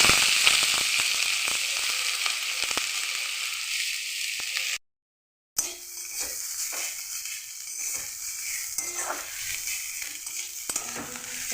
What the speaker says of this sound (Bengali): এবার এটাকে আমি তেলের মধ্যে দিয়ে দেবো।